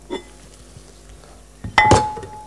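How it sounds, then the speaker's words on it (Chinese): Food in an electric clay pot is stirred after garlic goes in, giving a faint clink at first, then a loud scraping clatter of a utensil against the pot with a ringing tone. "把它这个搅拌一下"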